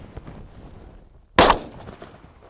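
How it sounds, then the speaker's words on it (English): A single loud shotgun blast fired while dove hunting outdoors, sharp and close, cutting through a faint background with light rustling before and after. "get ready for the shot and take it"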